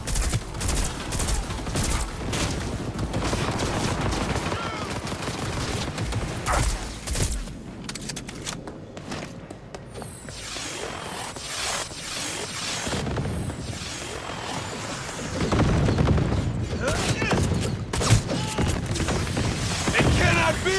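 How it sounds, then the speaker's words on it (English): Gunfire in the video game Cyberpunk 2077, bursts of rapid shots and heavy booms throughout, loud and near, with occasional voices in the mix. "I am taking fire!"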